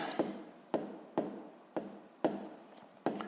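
Chalk or pen strokes writing out a sixth-grade math equation, a series of six or seven crisp scratchy strokes in an irregular rhythm, close and clear with no talking.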